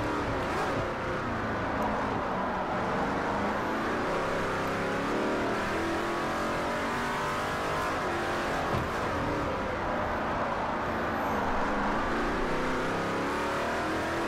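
A Ferrari race car engine in the racing game Forza Motorsport 4 drones steadily and loudly throughout, a dense continuous roar with small swells of revving and no pauses.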